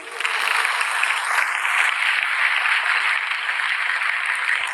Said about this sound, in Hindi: जरा एक बार ताली बजाओ जोर से